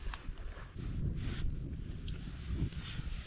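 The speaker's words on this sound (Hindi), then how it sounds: "बहुत तेज़ हवा चल रही है।" Strong, cold wind blows through a forest campsite at night as a steady, loud broadband rush that swells and gusts, with no voices.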